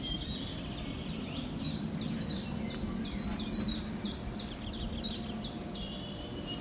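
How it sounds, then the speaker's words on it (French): Small birds chirp outdoors at a Center Parcs holiday resort in a steady run of quick, repeated high tweets, moderately near, over a constant low rumble of background noise, with no talk. "Il y a même les petits oiseaux."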